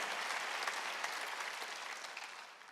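Congregation clapping together during a Korean church Wednesday worship service, a steady, fairly distant wash of applause that gradually fades over a few seconds.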